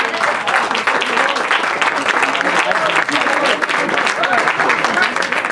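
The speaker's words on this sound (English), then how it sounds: "Nice round of applause right there for the best man, Kent." Wedding guests applaud the best man at a reception, a dense, steady wash of clapping hands that fills the room, with some voices mixed faintly beneath.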